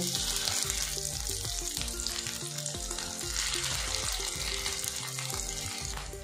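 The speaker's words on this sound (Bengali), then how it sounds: "এখন এই পনিরগুলো আমি ভাজছি" Cubes of paneer fry in hot oil in a pan, a steady close sizzle with stirring and scraping sounds over a low rhythmic background, with no talk.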